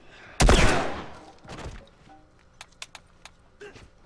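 Gunfire from a hunting rifle in The Last of Us Remastered on PS4: one loud, close blast with a long rumbling tail, a second lighter report, then several sharp clicks and small knocks as the weapon is handled.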